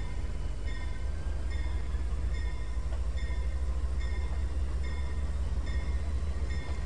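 A CN mixed freight train in the Trainz 2019 simulator rolls steadily along the track, a constant low rumble with regular wheel clicks and faint metallic tones repeating throughout.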